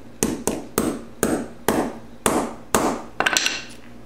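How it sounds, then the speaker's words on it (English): A hammer strikes a metal arbor held in place to peen a part flat for a Yamaha 250 saddle bag mount, giving eight sharp, close, ringing whacks at a steady rhythm, the last few quicker and rattling. "put the arbor in place, hold it there, and give it a good whack with the hammer"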